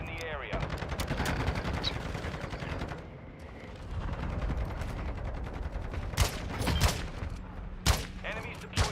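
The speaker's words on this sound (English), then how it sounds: "Hostile mortar strike incoming." Bursts of automatic gunfire and sharp explosive blasts from a mortar strike in Call of Duty, dense and continuous with louder impacts near the end, while a voice talks over the game audio.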